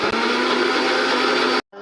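A kitchen blender grinds a paste of garlic, onion, chilli and tomato with a loud, steady motor whir, then cuts off abruptly near the end, with no talking.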